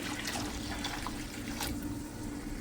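Hot water pours into a cooking pot of simmering meat and lentils, making a quiet, splashy trickle with a brief louder gush partway through.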